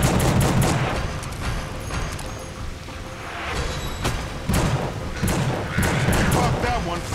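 Revolver shots in the horror action game The Suffering, a string of sharp gunfire bursts mixed with game combat noise while someone talks over the action.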